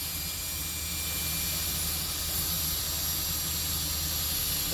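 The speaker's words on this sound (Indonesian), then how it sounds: "Itu jenis blower lah." Steam blower on a jackshaft steam locomotive still in service at the PG Rejosari sugar mill in Java, giving a steady, loud, unbroken rushing hiss that holds evenly throughout.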